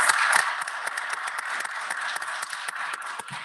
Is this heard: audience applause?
yes